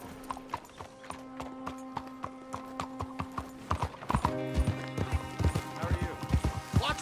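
Horse hooves clip-clop steadily in the Red Dead Redemption 2 video game, a close rhythmic beat over a low droning tone that picks up pace and grows louder toward the end.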